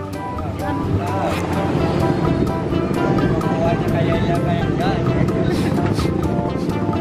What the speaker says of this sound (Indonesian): anginnya banyak banget teman-teman